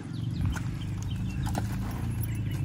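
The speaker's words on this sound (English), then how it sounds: "Oh, wild horses." Horses clip-clop on their hooves, the irregular knocks and scuffs close by and steady for a few seconds over a low rumbling background.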